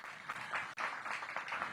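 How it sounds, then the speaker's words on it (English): Audience at a back-to-school night and ribbon cutting at Whitlock Elementary gives a short burst of dense applause, moderately loud and continuous for under two seconds. "Give him a big round of applause."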